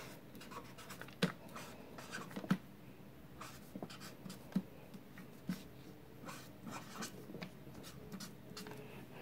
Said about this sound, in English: So we can just draw that on our diagram right here.